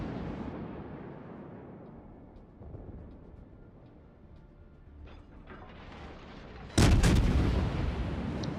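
Heavy naval gunfire from a cruiser in the World of Warships game, a rolling low rumble of distant shots that ends in a loud sudden salvo boom near the end, with no talk.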